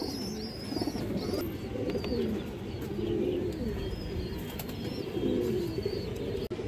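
Pigeons coo in a loft of Bagha and khaki hens, a continuous low murmur of overlapping calls with occasional higher chirps and brief wing flutters, fairly close.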